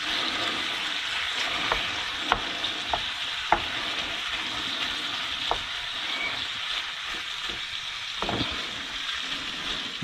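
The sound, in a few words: onion and bacon heating in a pan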